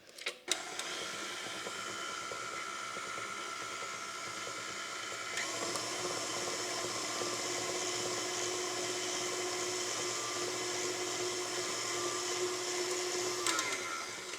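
An electric mixer whips cream with cream of coconut and powdered sugar for a coconut cream cake, a steady close whirring drone that steps up in pitch and loudness partway through and keeps running.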